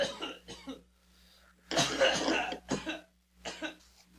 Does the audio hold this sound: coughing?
yes